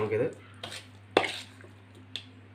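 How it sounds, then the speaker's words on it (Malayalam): Fried coconut pieces are stirred into squid in a pan. A metal spoon knocks and scrapes against the cookware in a few sharp, separate clanks over a low steady hum, with a soft scraping stir at the start. "നമ്മുടെ വറുത്ത് വെച്ച തേങ്ങാക്കൊത്തൂടെ നമുക്ക് ഇതിനകത്ത് ചേർത്ത് ഒന്ന് മിക്സ് ചെയ്തിട്ട്"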